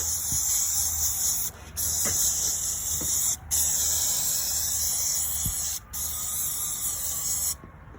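Degreaser sprayed onto an LS engine: close, loud, continuous hissing bursts separated by three brief pauses, with faint background clatter underneath.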